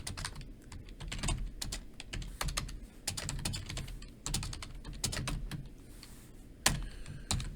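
Rapid keystrokes on a computer keyboard as code is typed, sharp clicks in irregular bursts and runs, close and fairly quiet with no voices.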